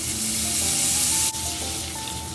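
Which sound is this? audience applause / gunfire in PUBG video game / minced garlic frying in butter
minced garlic frying in butter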